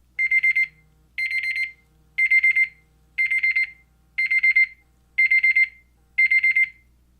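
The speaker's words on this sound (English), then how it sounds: "let's say my timer goes off" A timer alarm sounds on an LG G8 ThinQ phone, a series of seven evenly spaced electronic beeping bursts, each a rapid trill, clear and close with nothing else heard.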